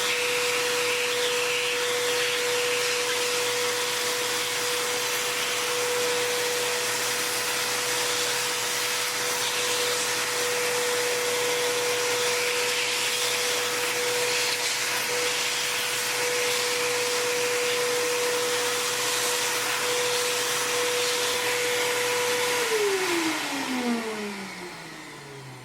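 A loud vacuum cleaner cleaning a clogged Alienware X51 R2 computer fan runs nonstop with a steady high whine for over twenty seconds, then winds down as the motor switches off.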